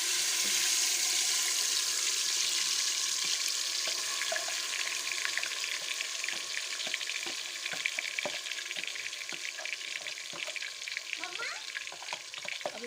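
Marinated chicken for korma fries in hot oil in a pan, a steady sizzle with crackling pops and occasional stirring scrapes, fairly close and without talk.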